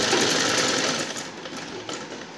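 A sewing machine stitches a fabric craft parrot for a door frame decoration, producing a loud, dense, continuous mechanical whir close by that eases slightly toward the end.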